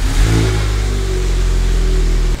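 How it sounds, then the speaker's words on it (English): Volkswagen Golf R engine fitted with a new downpipe and stock exhaust, starting with a loud rev that settles into a steady, deep drone close by, with no talking. "let's start it up and see if it sounds any different"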